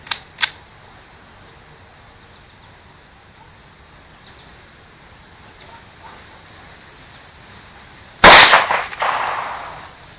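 A Kimber Micro 9 pistol fires Blazer 9mm ammo in a single sharp, loud shot with a decaying echo, preceded by a couple of small clicks and quiet surroundings.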